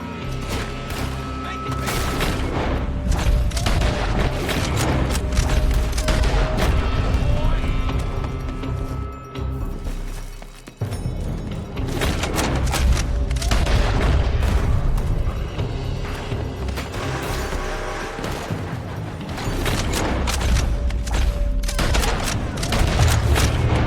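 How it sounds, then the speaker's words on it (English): Sustained gunfire crackles in Red Dead Redemption 2, a loud continuous barrage with booming shots and horse hooves mixed in, dipping briefly midway before the shooting resumes. "They're shooting."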